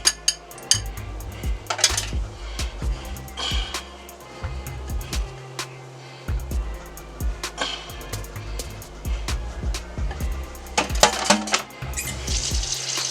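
Egg mixture for an Indiana-style breaded pork tenderloin is moved into a bigger, flatter container, giving close clinks and knocks of dishware and utensils in irregular bursts with brief pouring and scraping sounds.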